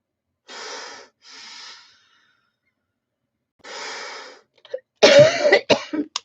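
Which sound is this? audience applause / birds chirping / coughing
coughing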